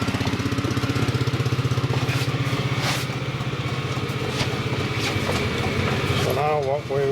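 A portable generator engine runs steadily, a loud, even mechanical drone with a constant pulsing rumble that holds for the whole stretch, with faint background voices mixed in.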